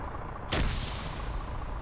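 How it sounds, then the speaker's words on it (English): A single sharp grenade blast in a multiplayer shooter game bursts out partway through, over a steady background of ambient game noise. "Grenades being thrown over."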